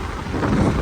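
Strong typhoon wind roars and buffets against the microphone in a brief, rough, continuous gust.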